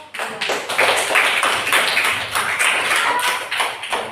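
A classroom of students claps for a group at the front, a burst of dense, fairly loud applause running on for several seconds with no talking over it.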